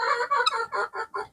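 Free-range poultry cluck and call as they are put in for the night, a quick series of close, loud squawks and honking clucks in short bursts, no talking.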